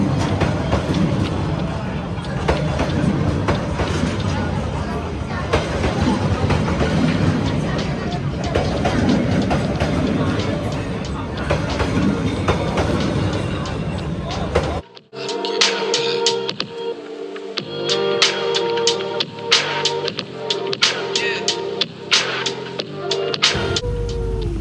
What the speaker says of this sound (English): basically you sit at a cafe and a train will pass by